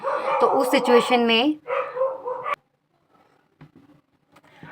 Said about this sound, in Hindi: कुत्ते भौंक रहे थे बाहर।